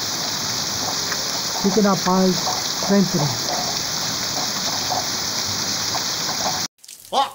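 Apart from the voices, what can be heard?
heavy rain falling at night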